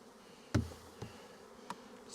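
Honey bees shaken from a hive frame into a tub buzz softly and steadily, broken by a sharp bump near the start and two fainter knocks after it.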